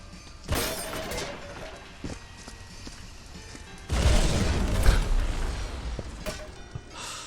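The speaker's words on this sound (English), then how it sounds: "set the dynamite off again" A dynamite explosion in a video game: a loud explosive blast with crashing, shattering debris, preceded by a smaller bang amid background game noise; no talking.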